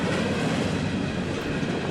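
A CSX freight train led by a 2007 GE ES44AC-H locomotive rolls past, producing a loud, steady, close roar of wheels and rail noise with no talking.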